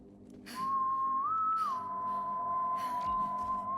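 Character in Borderlands 3 whistling one long sustained note that briefly steps up in pitch and then settles back, clear and fairly close over quiet game ambience with a few soft rustling bursts.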